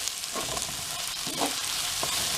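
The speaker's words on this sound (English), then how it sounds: "And I'm going to let that stir fry for another minute or so." Vegetables with green onions stir-frying in a hot pan give a loud, continuous sizzle and crackle, with a few soft scrapes from stirring mixed in.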